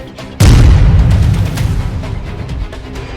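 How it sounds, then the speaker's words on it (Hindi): Artillery firing during a Pakistani army Hammer Strike exercise, a single loud booming blast that rolls and rumbles away for several seconds, no speech. "जनरल आसिम मुनीर खुद फायरिंग में हैमर स्ट्राइक अभ्यास का जायजा लेते दिखाई दिए"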